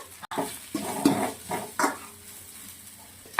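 Cumin, garlic and black pepper frying in a pan for pork sukka, a few scraping stirs over a low sizzle, close and fairly quiet, no speech.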